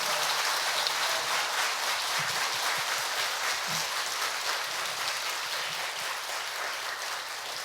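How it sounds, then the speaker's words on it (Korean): A congregation in a Korean church claps warmly after a revival meeting sermon. The dense, even applause fills the room and fades slightly near the end. "감사하는 표현으로 뜨겁게 한번 박수 한번 하시겠습니다."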